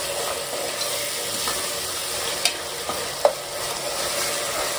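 Ginger frying and being stirred in a pan for mutton head curry, a continuous close sizzle with a few sharp spatula scrapes and clicks against the pan.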